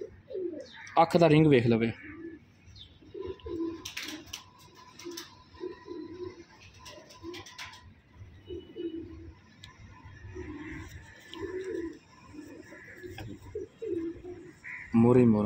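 Pigeons coo in soft repeated throaty bursts, fairly near and steady through most of the stretch, while someone talks over them at the start and end.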